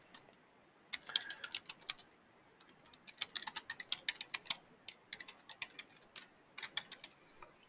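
Fingers type on a computer keyboard in quick, uneven bursts of light clicks and taps with short pauses between them, close but soft, with no talk.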